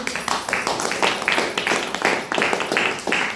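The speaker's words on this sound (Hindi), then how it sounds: "एक बार लीडरों के लिए जोरदार ताली लगा दीजिए।" A meeting audience claps loudly for their leaders in steady, rhythmic bursts of many hands beating together, with no voices over it.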